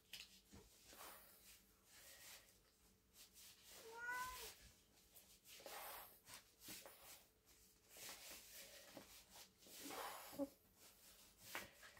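A domestic cat meows several times indoors, faint to moderate and fairly close, with soft shuffling sounds between the calls.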